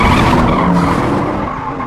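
Drag racing cars skid past in a film scene, a loud close rush of tire squeal and engine roar that fades slightly as they go by.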